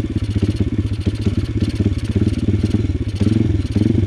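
A pit bike engine runs roughly at low revs, its uneven chugging pulsing steadily up close with slight surges and dips throughout.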